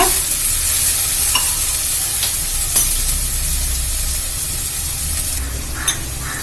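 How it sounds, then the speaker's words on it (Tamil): Steady, loud sizzling hiss as a glass of water is poured into a hot pan of drumstick-leaf kootu, with a few scattered clinks of stirring; no one speaks. "இந்த 1 கிளாஸ் தண்ணி ஊற்றுறப்பா"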